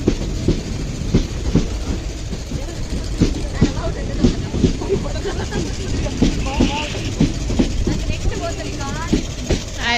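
A passenger train bound for Mangalore Junction runs along with a loud, steady rhythmic clickety-clack of wheels over rail joints, close and continuous, with people talking over the rumble.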